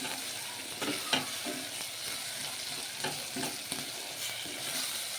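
Goat spleen frying in oil on a low flame, a steady close sizzle with faint stirring scrapes and clinks, no talking.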